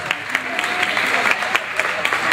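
A crowd applauds the adjudicators at an adult open standard dance competition, with dense, continuous clapping that fills the room at a steady level with a few sharper claps standing out.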